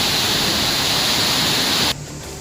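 River water roars through the 21 open floodgates of Masanjore Dam after torrential rain, a loud, steady broadband rush that drops away sharply near the end.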